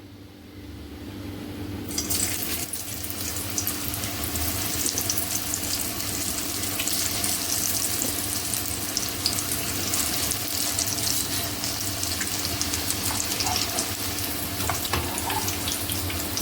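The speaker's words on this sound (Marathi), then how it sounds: "आपण तळून घेऊया आता वडी" Pieces of cabbage vadi deep-fry in hot oil in a kadhai, a dense steady bubbling hiss that surges in after a quieter opening and holds loud and even, with no talking.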